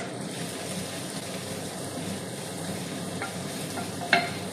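Carrots go into a hot pan in a home kitchen, giving a steady, close frying sizzle with faint stirring and a brief clink near the end, with no talking.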